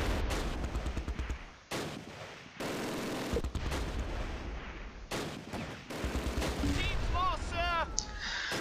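Anti-tank gun being destroyed in the Close Combat wartime video game, loud battle noise of repeated gunfire and heavy blasts in abrupt bursts, with a few whistling sounds near the end.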